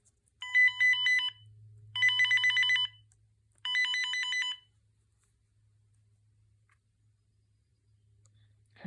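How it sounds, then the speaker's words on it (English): A 2000s General Electric analog cordless phone cycles through its ringtones: three separate bursts of bright electronic trilling ring, each about a second long, with quiet gaps and a low hum underneath. "Typical selection of ringtones for a GE phone."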